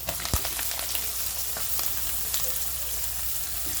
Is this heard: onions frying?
yes